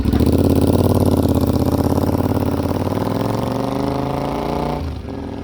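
A motorcycle with a slash-cut exhaust idles steadily with a loud, throaty, lumpy exhaust rumble for about five seconds, then revs briefly and drops away near the end.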